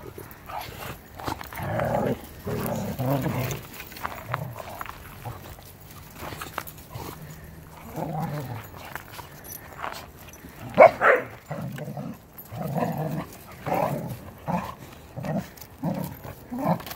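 Dogs playing give off scattered barks, yips and whimpers over seventeen seconds, mostly moderate and close in a quiet indoor room, with one sharper louder bark partway through.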